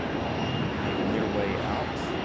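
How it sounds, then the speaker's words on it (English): A CRJ regional jet on the move at Raleigh-Durham airport produces a steady jet engine roar with a faint shifting whine, while a voice talks over it. "Got one of our CRJs finally on the move."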